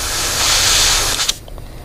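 A fine, steady hiss of an airbrush spraying paint for just over a second, close by, then a brief sputter before it cuts off into quiet.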